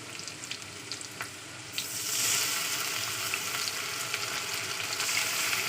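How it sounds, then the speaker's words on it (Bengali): Onion frying in oil, with a ginger-garlic paste pounded in a mortar added, for a prawn dish with ridge gourd and potato; a quieter sizzle swells into a loud, steady hiss partway through, close up and with no talk. "চলুন এই পেঁয়াজটা ভাজা ভাজা হয়ে আসতে প্রায়"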